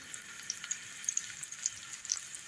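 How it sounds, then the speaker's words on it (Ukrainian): Chopped onion frying in a pan for breakfast, a steady soft sizzle with scattered small crackles and pops running throughout, fairly quiet and close, with no voices. "Цибулька почала смажитися"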